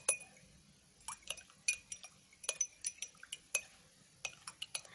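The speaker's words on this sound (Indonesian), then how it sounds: "Setelah kita masukkan jahenya, kita aduk agar tercampur." A spoon clinks repeatedly against a glass while stirring ginger into hot tea, quick irregular light taps close up, with no talking.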